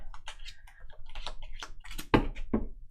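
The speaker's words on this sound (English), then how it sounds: "I gotta shuffle on stream so y'all can see" A deck of playing cards being shuffled by hand makes quick, close bursts of crisp riffling clicks and flutters in short irregular runs, with no talking.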